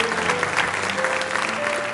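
A church congregation at a cell-group conference claps together in a steady, dense wash of applause that holds evenly throughout, with no voices standing out.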